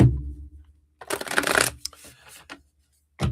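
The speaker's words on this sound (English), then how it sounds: "Let's shuffle this up one more time." Deck of tarot cards being shuffled by hand: a dense riffling burst followed by several shorter flicks and taps, close and fairly loud, with brief voice sounds at the start.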